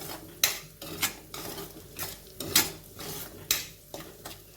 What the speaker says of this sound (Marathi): आता पुन्हा एक दोन मिनिटं हे परतून घेऊन मी ह्या भाज्या बाजूला काढीन